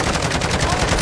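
Rapid sustained automatic fire from a sentry gun in Call of Duty MW2 multiplayer, a loud, dense burst of closely spaced shots filling the whole second.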